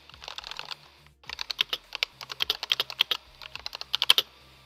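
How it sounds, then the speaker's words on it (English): Rapid typing on a linear-switch mechanical keyboard up close, clacky keystrokes in quick bursts with a brief pause near the start; no voices. "Keyboard ASMR is actually quite nice sometimes."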